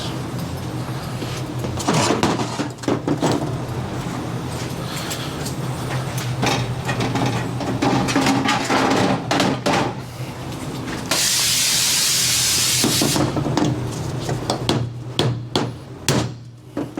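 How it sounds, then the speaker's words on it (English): Loud metallic hammer blows drive a part out of a Garelli moped engine case again and again at an uneven pace, with a steady hiss rising in the middle before the pounding resumes. "Real hammer works much better for this."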